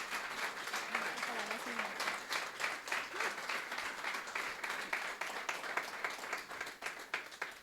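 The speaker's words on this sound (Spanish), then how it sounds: "Yo quisiera que denle un aplauso al Señor" Congregation applauding at a Spanish-language church talk on genetic inheritance, steady dense clapping throughout at moderate distance, with faint speech-like sounds mixed in.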